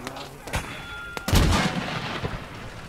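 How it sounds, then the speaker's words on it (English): Mortar and gun fire in the Gates of Hell WWII battle game: a few sharp shots, then a heavy booming blast that rumbles and decays, with scattered distant pops afterward. "Oh, the mortar's just unleashing."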